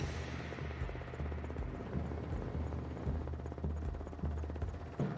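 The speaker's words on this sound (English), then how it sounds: "we board one of the Nigerian Army's helicopters" Continuous rhythmic thudding of a Nigerian Army helicopter's rotors with a deep engine drone, heard from inside or very near the aircraft, steady and unbroken.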